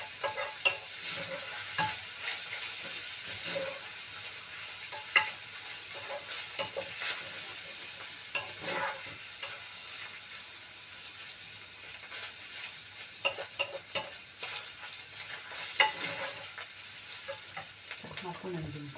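Food sizzles steadily in a hot pan on the stove while a utensil stirs it, scraping and clicking intermittently over the constant frying hiss, with no one talking.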